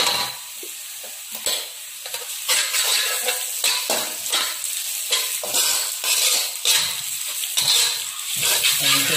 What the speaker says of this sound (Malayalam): ഇത് സവോളയും ക്യാപ്സിക്കും ഇതെല്ലാം നന്നായിട്ട് വാടിയതിന് ശേഷം 2 സ്പൂണ് വെളുത്തുള്ളി വറുത്തിട്ടുള്ളത്.